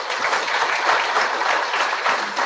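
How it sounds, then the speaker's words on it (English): Engineering career-talk audience giving a round of applause, a dense, even burst of many hands clapping throughout, fairly loud with no voices over it. "Give him a round of applause."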